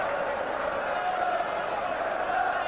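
A football crowd at Parkhead, during Celtic against Sporting Lisbon in 1996, gives a steady roar of applause and murmur that fills the stadium, with a commentator talking over it.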